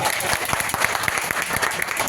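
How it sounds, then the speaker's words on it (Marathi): An audience claps loudly and steadily after a poem is recited at a gathering, a dense patter of many hands held at an even level throughout. "एकदा सर्वांनी जोरदार टाळ्या वाजवा"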